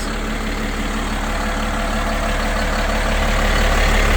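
A 2012 Kawasaki ZV wheel loader runs with its diesel engine idling, giving a steady, loud, close rumble with a constant drone and no change in pace throughout.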